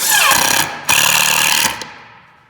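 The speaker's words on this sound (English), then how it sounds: "you're gonna try to drill kind of straight in, just like that" A power drill bores into a bear-proof metal trail camera box, giving two loud close bursts of whining, grinding drilling, the second longer and ending in a fading tail.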